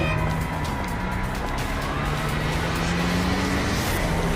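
A car drives by at a steady pace, its engine hum and road noise continuous. A faint rising whine sits above the drone, and there is no speech.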